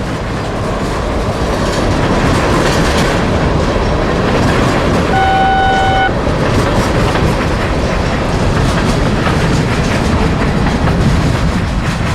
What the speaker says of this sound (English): M601 and counterpart 602 carry lots of chemical traffic that originates in Louisiana